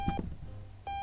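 Alarm clock beeping in Octodad, two short electronic tones bracketing a brief pause, close and clear over faint clattery game noise.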